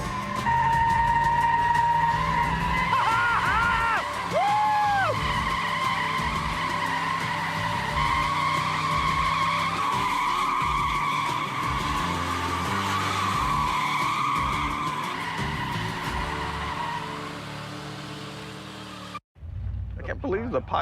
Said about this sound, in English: I'm gonna go do some smoky burnouts